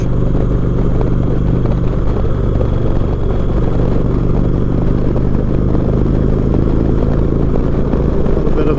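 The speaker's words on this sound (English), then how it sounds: "Nothing like spending a Saturday out on the motorcycle." Motorcycle riding on a Saturday trip in southeast Texas toward Toledo Bend, a loud steady engine drone with rushing wind and road noise throughout, no talking.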